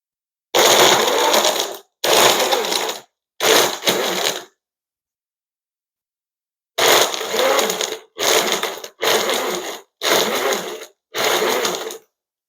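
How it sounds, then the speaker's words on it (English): A blender crushes ice for a frothy slushy cocktail in loud, close, grinding pulses of about one second each: three bursts, a pause of a few seconds, then five more bursts in quick succession. "Do I need to add the whole ice tray to get me some frothy, icy, Slurpee-esque type of slushy?"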